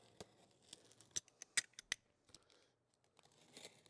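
Cardboard box being gently cut open with a small blade: a quiet series of short, sharp snips and scrapes with light crinkling between them, close by and with no talking.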